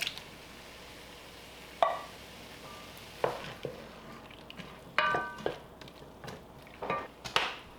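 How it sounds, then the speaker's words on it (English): Soup being stirred in a pot while making a lasagna soup: intermittent scraping clanks of a utensil against the pot, a handful of distinct knocks and scrapes at close range over quiet kitchen background. "Give that a stir."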